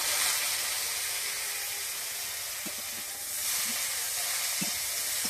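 Sour mango pieces frying in mustard oil with dried red chili, a steady hissing sizzle throughout with a couple of faint clinks.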